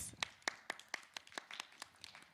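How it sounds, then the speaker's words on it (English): An audience claps for a judge at a school grand finale event, with sparse, fairly quiet hand claps in an irregular, steady rhythm and no talk. "Round of applause for Miss Caroline"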